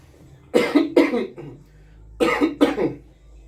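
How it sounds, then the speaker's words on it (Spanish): Two pairs of sharp, close coughs, each a quick double hack, separated by a short pause. "Me dio tos"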